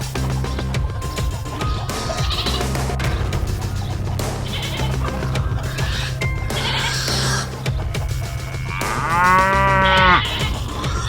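A single drawn-out moo from a toy Simmental calf rises near the end over steady background music.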